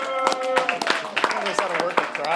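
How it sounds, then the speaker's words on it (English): Applause at Lindsay's graduation from Linfield, heard as a series of sharp claps while a person talks loudly over them throughout. "Give a round of applause for Lindsay for graduating from Linfield."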